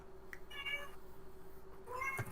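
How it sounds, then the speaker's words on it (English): A cat meows twice indoors, short tonal calls close by, with a steady low electrical hum underneath and no talking. "I hear cat."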